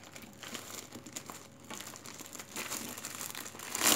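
Crinkling of a plastic bag holding paper coffee filters as it is handled and tucked into a holder, with steady close rustling that swells louder toward the end.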